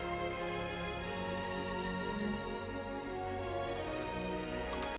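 Original-pitch recording of music from The Dark Crystal soundtrack, a dense, sustained orchestral texture with steady tones held throughout, loud and continuous, ending with a brief dip at the very end.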